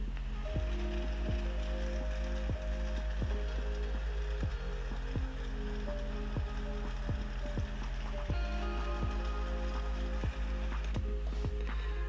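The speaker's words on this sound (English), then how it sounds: "So now you have music layered with rain" Rain sound effect layered under music, with a steady hiss of rainfall beneath a repeating rhythmic beat with regular low thumps and sustained tones, fairly quiet and continuous throughout.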